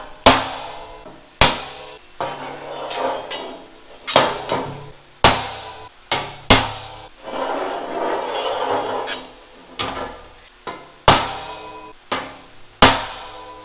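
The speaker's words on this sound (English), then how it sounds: "So we're going to go ahead and center punch these" Sharp metallic hammer strikes on a center punch marking steel security bars, about a dozen loud ringing blows spaced irregularly with shop noise between them.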